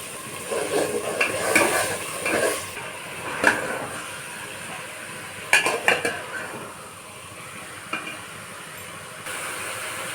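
Squash and pointed gourd pieces are tossed into spice paste and stir-fried in a pan, giving scattered metallic scrapes and clatters of a spatula against the pan, with a few sharper clanks standing out over a soft steady background.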